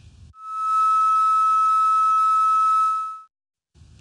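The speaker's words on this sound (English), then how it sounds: "Now here's another sine wave of slightly higher pitch" A steady pure sine tone at a fairly high pitch holds evenly for about three seconds, then cuts off cleanly.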